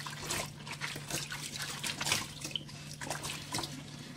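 Salted cabbage soaked four hours in salt water being rinsed for homemade kimchi, with steady trickling and splashing water throughout, close and continuous, under a low steady hum.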